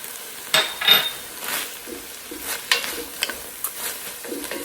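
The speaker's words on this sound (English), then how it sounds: "Now I'm gonna go in with a clove of garlic, minced garlic." Minced garlic frying with beef in a pot for ravioli soup, a soft sizzle broken by a few stirring scrapes and light utensil clinks against the pot, close and alone.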